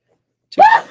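A single short sneeze bursting out of silence during a psychic radio show, close and loud, tailing off quickly.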